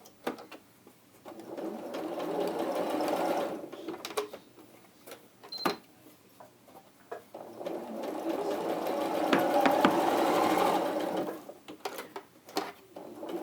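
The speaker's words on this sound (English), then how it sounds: "So you can just keep sewing these to get to the end of the strip, can't you?" A sewing machine stitches quilting fabric strips in two sustained close runs of steady whirring, separated by quieter pauses with faint clicks and handling sounds.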